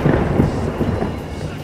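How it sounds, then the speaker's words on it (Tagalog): Thunder rolls at night during Tropical Cyclone Uwan in the Philippines, amid rain and heavy wind, as a loud, continuous low rumble filling the short moment. "dilubyo ang hangin at kulog."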